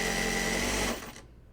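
A sewing machine stitches a jelly roll race quilt at high speed, a close, steady mechanical whir that slows and stops about a second in, leaving quiet afterward.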